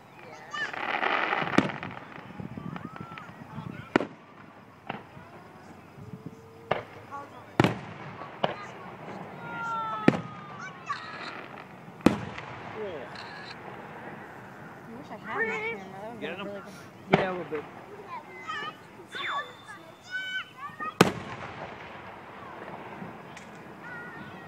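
Fireworks shot off in a street at Skippack burst in repeated sharp cracks and booms, some with crackling tails, while onlookers talk and react nearby.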